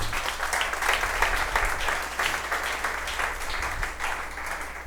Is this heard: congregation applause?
yes